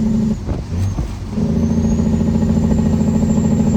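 An 18-speed Peterbilt 379 truck engine runs loud and close with a steady low diesel drone, dipping briefly as the driver shifts gears and then settling back into an even rumble.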